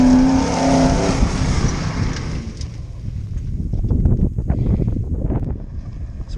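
An off-road truck on Nitto Ridge Grappler tires climbs a steep hill section at Pinnacle Creek, its engine a loud, close, uneven roar with heavy wind buffeting the microphone throughout.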